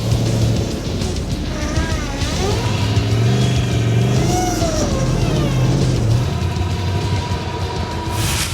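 An E23 Gorilla off-road trail truck engine revs loudly and steadily up close, the pitch rising and falling as it climbs, with no talk over it.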